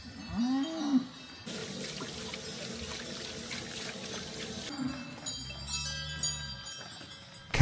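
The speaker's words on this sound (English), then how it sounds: "Cattle gather naturally, moving as a group." Cattle gathering by the barn gates of an Alpine dairy farm, jangling cowbells throughout, low lowing moos near the start and later, and a burst of running water at the end.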